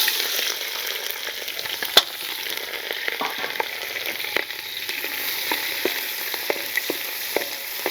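Sliced onions and slit green chilies frying in hot oil for a fish dish, a steady close sizzle broken by small crackles and the odd tap of a utensil, with no voices.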